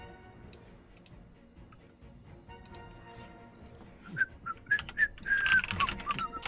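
Someone whistles during an Imperator: Rome multiplayer session, a few short tonal whistled notes rising out of quiet background noise toward the end, fairly close and moderately loud.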